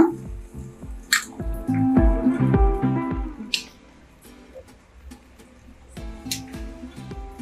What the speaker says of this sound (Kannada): ಈಗ ಒಂದು ಬೌಲ್ಗೆ ಸರ್ವ್ ಮಾಡ್ಕೊಳ್ಳೋಣ.